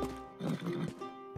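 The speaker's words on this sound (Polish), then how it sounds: "Wciśnij Y, wsiąść na konia" Horse in the Xbox Series X game Rustler gives a short, fairly quiet whinny with a snorting, breathy texture, over in about a second.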